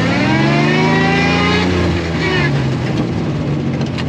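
A Gaz 69 off-road vehicle fitted with a V6 engine revs hard close by, its engine note rising and falling in loud sustained harmonic sweeps while a voice speaks over it.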